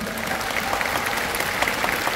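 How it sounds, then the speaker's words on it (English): Zoo show audience claps for Pedro the sea lion at Singapore Zoo, a steady crowd applause of moderate loudness heard from within the seating. "Okay, I think we need to clap for him."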